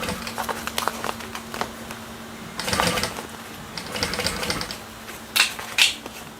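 A home sewing machine stitches a Lyra bag in quick mechanical bursts, rattling runs separated by pauses, with light clicks and handling noises close by.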